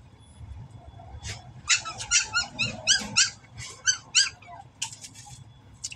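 A puppy gives a string of high, squeaky growls and whimpering yelps in quick bursts, close by, over a low background hum.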